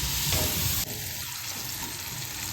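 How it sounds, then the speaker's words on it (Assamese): Chopped onions fry in melted butter for a chicken butter masala, giving a continuous, loud, close hiss and crackle with no voices. "এতিয়া আটাইখিনি বস্তু বাটাৰত ভাজি ল'ম। প্ৰথমতে দিলোঁ পিঁয়াজখিনি অকণমান ভাজি ল'ম"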